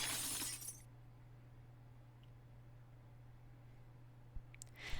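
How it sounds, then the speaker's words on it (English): Glass milk bottle smashing on the floor, a sharp bright burst of shattering at the start that quickly dies into a quiet hum, followed by a few faint clinks of settling shards near the end. "As the milk shattered on the floor with a loud smash"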